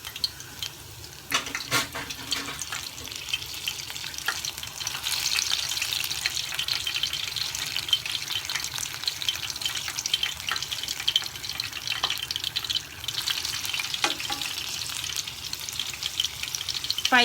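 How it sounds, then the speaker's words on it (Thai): Wasabi leaf tempura fries in hot oil over medium heat, a steady close bubbling sizzle with occasional sharper crackles, rising slightly in loudness. "จะให้ดูตอนทอดค่ะ"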